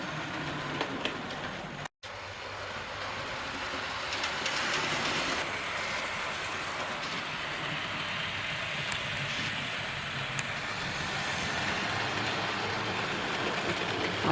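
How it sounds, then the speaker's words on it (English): Model trains on a loft model railway rumble and click steadily along the track, a continuous close clatter with a brief cut near the start. "I just had to have some trains running."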